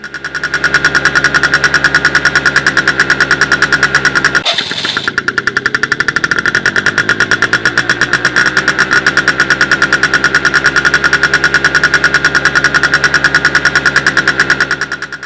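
Steady vehicle engine running loud and close for about fifteen seconds, a droning idle with a dense rhythmic knock, briefly dipping near the middle before settling back to the same even hum.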